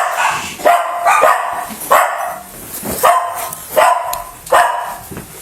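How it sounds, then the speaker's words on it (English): Dog barking indoors in a home, about seven sharp, evenly spaced barks close by and fairly loud, with no talk over them. "Bad dog."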